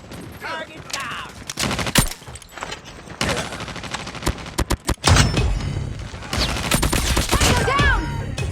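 A nailgun fires in the shooter game COD Mobile, with rapid loud bursts and dense clattering shots mixed with game effects, brief pauses between volleys and barked in-game voice lines.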